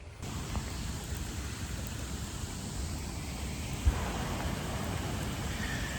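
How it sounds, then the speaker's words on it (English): Soft, steady rain hiss fills the background, fairly faint and continuous, with a single small knock partway through and no voices. "Unfortunately, it has started to rain"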